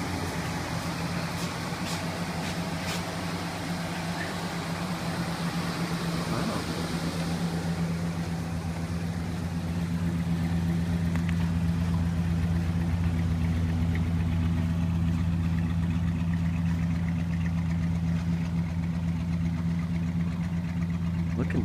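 A 1967 Pontiac Tempest engine idles steadily while warming up in a garage, a constant low rumble with a slight rise in level partway through, heard up close.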